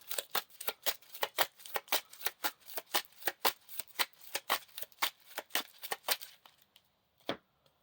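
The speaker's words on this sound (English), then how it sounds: "Shuffle this back into the encounter deck." Playing cards from a Lord of the Rings living card game deck are shuffled back into the encounter deck, giving a quick run of close, crisp riffling snaps that end with a final tap.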